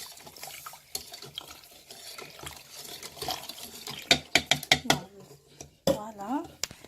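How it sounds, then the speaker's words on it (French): Juice poured into birthday cake batter while it is stirred, with clinks of a utensil against the bowl, scraping, and a brief liquid trickle, close by with some talk in the background. "nous commençons à verser le jus et en mélangeant en même temps"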